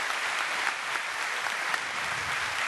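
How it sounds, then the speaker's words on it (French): Dense, even applause from an audience at an awards ceremony, a steady wash of many hands clapping for almost three seconds without talk. "Des applaudissements pour Françoise."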